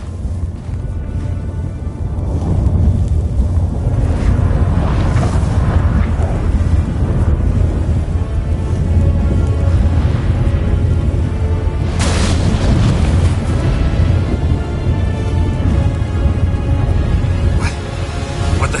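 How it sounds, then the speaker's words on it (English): A storm in The Witcher 3 brings a continuous low rumbling roar of wind across the whole stretch, with heavier booming thunder swells around the middle and a sharp crack near twelve seconds, loud and dense throughout. "That a storm?"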